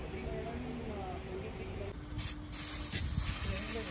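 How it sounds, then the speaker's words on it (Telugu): Chain lubricant is sprayed onto a motorcycle chain in short hissing bursts, close and moderately loud over background chatter and outdoor noise. "చైన్ స్ప్రే కొడుతున్నారు"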